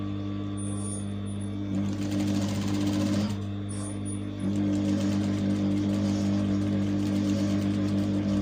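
A sewing machine runs continuously while stitching an African print tote bag, with a steady whirring drone, a brief lull in the middle and a shift in pitch partway through.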